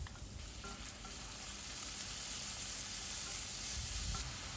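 Chopped onions frying with cumin, green chilli and garlic in a pan for a sprouts curry, a soft, steady sizzle and hiss continuing throughout without any voices.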